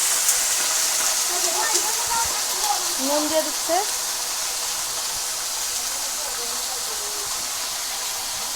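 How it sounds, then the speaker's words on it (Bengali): Chicken curry cooks in a pan with a steady, loud hiss and sizzle that runs throughout, while a person talks over it. "এবার দেখুন চিকেনটা রান্না করছে"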